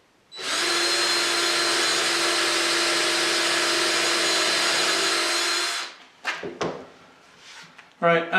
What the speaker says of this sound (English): at the drill press I've got my fence right where it needs to be in order to have the right depth of cut